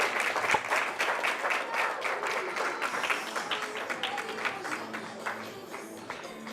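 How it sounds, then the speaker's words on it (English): Audience applause at an eco chic sustainable fashion showcase in Lyons, a dense steady round of clapping from a crowd, sustained and fairly close, tapering slightly toward the end with no talking over it. "So I need a really warm round of applause to welcome Elysa out."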